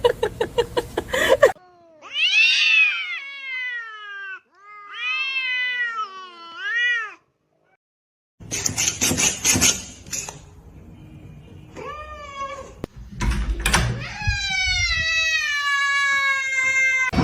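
Cats yowling and meowing at each other in a fight, with drawn-out rising and falling caterwauls and sharp hisses in bursts, loud and close, split by a brief silence partway through.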